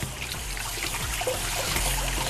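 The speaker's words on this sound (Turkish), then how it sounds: "Hemen ellerimi yıkıyorum." Water runs steadily from a kitchen tap while hands are washed, a close, continuous trickle and splash with no talk.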